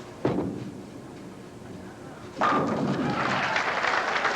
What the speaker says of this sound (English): For Barry Asher in this final game, thus far, 8 strikes